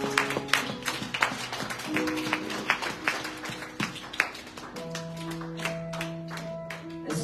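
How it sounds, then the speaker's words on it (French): A church congregation claps during a worship service, a dense, even patter of many hands that carries on for several seconds while sustained tones ring underneath. "Est-ce qu'on peut applaudir? Allez,"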